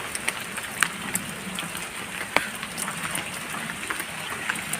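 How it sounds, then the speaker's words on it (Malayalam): Rain falls steadily on a paddy field during fishing, a dense soft patter with a few sharper drops landing nearby, fairly faint, with no talk. "പോയ നല്ല മഴയുണ്ട്."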